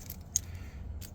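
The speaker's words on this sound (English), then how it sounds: "you'll cut 2 wires on your harness" Two quick snips as wires on a truck seat harness are cut, a sharp close click followed by a softer second one, faint against a quiet room.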